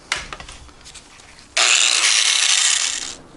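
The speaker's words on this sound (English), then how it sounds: "Now grind this little tab off." A grinder scrapes against a small metal tab on a Honda Ruckus GY6 engine mount, with brief scratchy touches followed by one loud, continuous grinding burst lasting over a second.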